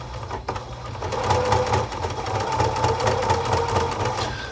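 A sewing machine fitted with a flat felling foot stitches a napkin seam, a close, steady rapid whirring and needle clatter that runs continuously with slight dips in speed.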